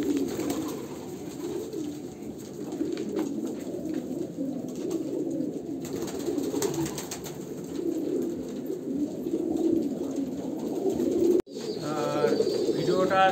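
Kalanka pigeons, an Andhra pure bloodline kept by a breeder, coo steadily in a low rolling chorus while waiting to be fed, a continuous close murmur with a brief sharper burst near the end.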